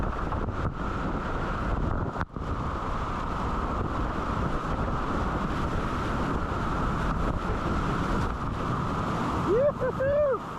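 Wind gusts on a river at whitewater rapids, steady loud roaring rush of wind and churning water across the whole stretch, with a brief vocal sound near the end.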